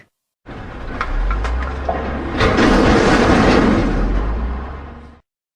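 A dump truck rumbles loudly and close by with a deep, heavy roar. Clanking and rattling bursts swell in the middle and then cut off abruptly.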